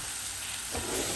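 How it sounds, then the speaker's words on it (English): Yellow or white onions for French onion soup sizzle in a pan as they are stirred toward light browning, a short, even hiss that swells slightly with a stir, close and without talk. "I'm just going to stir these until they are lightly browned."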